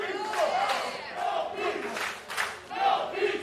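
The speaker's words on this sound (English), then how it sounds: "this crowd is obviously getting into this one" A packed wrestling crowd roars and chants loudly throughout a tag-team match, with surging shouts and sustained cheering that swell and dip in waves.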